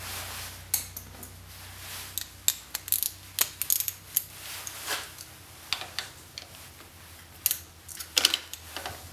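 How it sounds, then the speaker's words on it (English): Bolts being tightened on a G2 quick turn throttle assembly for a two-stroke, giving a string of small sharp metallic clicks and ticks at irregular intervals, close and fairly quiet, with no talking. "Now what we'll do is we're going to tighten these bolts up a little bit more."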